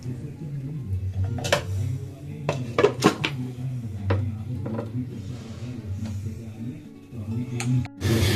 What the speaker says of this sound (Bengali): আবার পাঁচ মিনিটের জন্য এটা আমি ঢাকা দিয়ে দেবো